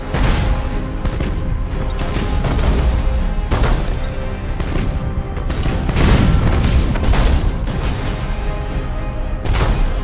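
Spaceship weapons fire in Battlefleet Gothic: Armada, a loud continuous barrage of booming, crashing blasts layered densely over ten seconds, with repeated heavy impacts and no pause.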